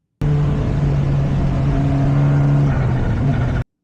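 A race car's engine drones loud and close while it brakes and downshifts into turn two at Misano, the steady tone shifting slightly before cutting off abruptly.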